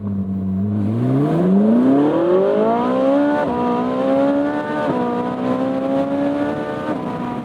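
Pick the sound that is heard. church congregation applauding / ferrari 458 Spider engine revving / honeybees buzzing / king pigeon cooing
ferrari 458 Spider engine revving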